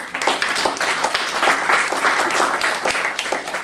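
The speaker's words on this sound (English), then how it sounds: "let's give them a round of applause." An audience claps steadily, a dense wash of applause from a crowd that holds for a few seconds.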